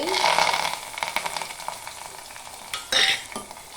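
Onion frying with mustard seeds and curry leaves for a dal dish: a loud crackling sizzle that eases off, broken by quick stirring scrapes and a sharp burst of spattering near the end.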